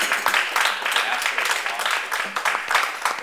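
Audience applause after a talk on Maori living story and human extinction, a steady patter of many hands clapping throughout at moderate volume, no voices over it.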